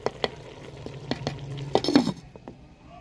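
A spoon stirring village-style mixed vegetable curry (salan) in a metal pot, giving scattered sharp clinks and soft scrapes at close range in a quiet setting.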